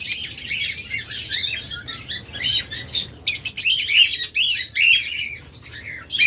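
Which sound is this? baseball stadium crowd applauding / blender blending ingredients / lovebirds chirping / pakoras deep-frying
lovebirds chirping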